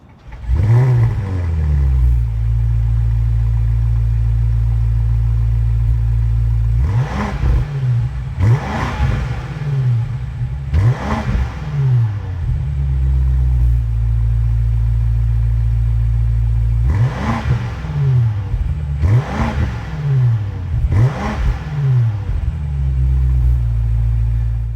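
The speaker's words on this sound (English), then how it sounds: "we're going to take the M5 out for a quick test drive" A 2025 BMW M5 on a test drive gives a deep, steady engine drone that rises into several revving surges, some in quick pairs, loud and close throughout with no talking.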